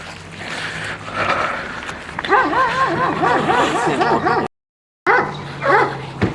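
Close by, a dog gives a run of whiny, yelping barks in quick succession over steady background noise, with a brief cut to silence before more yelps.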